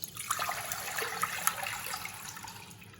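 Tap water runs steadily into a cooking pan being filled for pasta, a close continuous rushing splash that slowly softens, with no speech.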